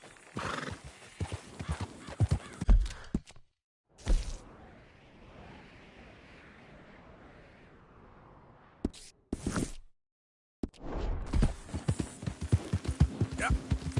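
Horse hooves clip-clop in the video game Red Dead Redemption 2, with neighing and whinnying amid game sounds, while a voice talks in parts of the stretch.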